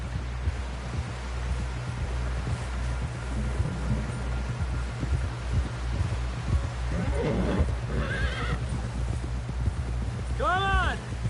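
Horse in Red Dead Redemption 2 gallops with steady clip-clopping hooves and gives a loud neigh near the end, all over rustling wind and game ambience.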